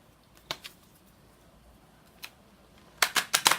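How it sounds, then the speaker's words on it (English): A deck of tarot cards being shuffled: papery flicks and taps, a few isolated ones, then a quick burst of riffling snaps at the end, close and fairly quiet. "So I shuffled them a little bit."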